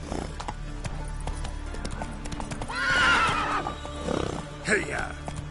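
Roach, the horse in The Witcher 3, clip-clops along with steady hooves and then lets out a loud neigh and a shorter whinny, close by; a voice speaks briefly.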